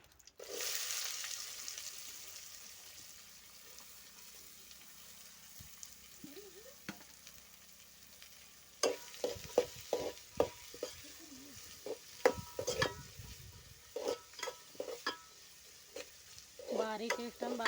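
Two large onions go into a hot pan for a village-style jowar kadubu with dill. A faint hiss gives way to crackling sizzle and clattering stirring strokes, close up and in uneven bursts.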